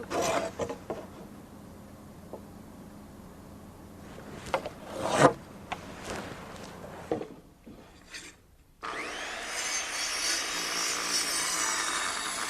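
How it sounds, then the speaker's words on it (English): Cutting notches into a wooden deck stair stringer gives rasping, scraping strokes that start irregular and close, then pause briefly before a steadier, louder continuous cutting noise takes over. "when cutting the notches, I'm careful to saw on the waist side of the line"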